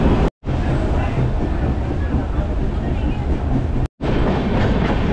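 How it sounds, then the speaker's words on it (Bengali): The Dhauli Express passenger train pulls out of a station on its Puri to Santragachi run with a loud, continuous rumble and rail clatter. Two very brief dropouts break the sound. "আমাদের ট্রেনটা ছেড়ে দিল মাত্র 2 মিনিটের হল্ট নিয়ে।"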